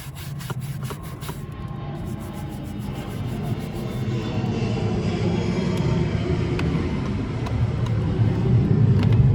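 A propeller airplane passes overhead near a small-town airport, a broad rumbling drone that swells gradually over several seconds, with light scraping and tapping sounds in the room.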